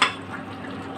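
Fried pointed gourds dropped into a simmering spiced fish curry with potatoes, a short sharp splash and hiss at the start settling into a low steady bubbling sizzle.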